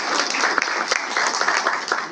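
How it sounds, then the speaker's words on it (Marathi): A large audience at a Mahajyoti gathering applauds itself, producing dense, loud, continuous clapping with an uneven rhythm of sharper peaks and no break. "एकदा स्वतःसाठी जोरदार टाळ्या वाजवतो."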